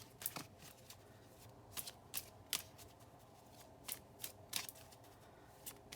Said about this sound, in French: je vais couper et je vais les tirer